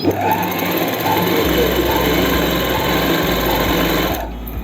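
A sewing machine runs steadily and loudly up close, stitching the leg seam of a palazzo pant in one continuous whirring run, with no talking heard.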